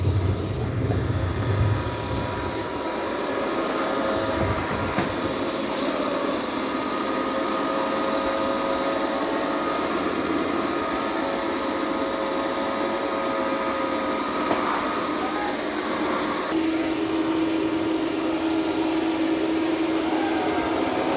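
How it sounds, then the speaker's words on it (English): A Dreame robot vacuum mopping and vacuuming at once gives a loud, continuous motor whine and airflow hiss close by, with a low rumble early on and a steady tone that shifts slightly late in the run. "Okay, it's mopping and vacuuming at the same time."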